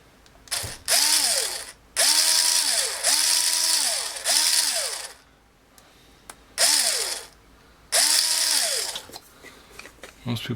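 Battery-powered electric pepper mill grinding in repeated bursts of a few seconds each, a whirring motor with a ratcheting, clicking grind that pauses between runs, up close and loud.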